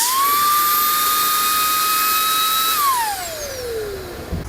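A Makita cordless blower spins up quickly to a loud, steady high-pitched whine, holds for a few seconds, then winds down as the motor is released, the pitch falling away.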